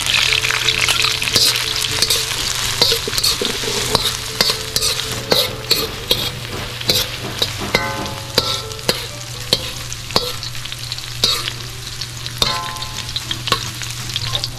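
Chopped garlic fries in a pan after onions, ingredients for kinamatisang pata ng baka, sizzling continuously with a low steady hiss while repeated scraping stirs sound clearly and nearby.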